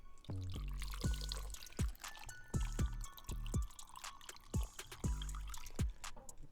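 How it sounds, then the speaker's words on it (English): Arizona Mucho Mango juice drink poured from a can into a glass, with a rhythmic series of glugging gushes and splashes close by, repeating about eight times over a few seconds, no voices. "Oh wait, we ain't poured it yet."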